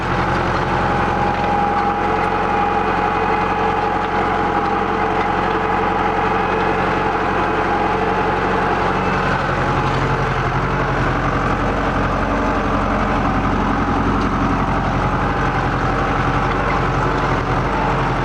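A four-wheel-drive vehicle engine runs steadily at about 2,000 revs at a motocross track, a constant low rumble for the whole stretch, loud and close, with no talking.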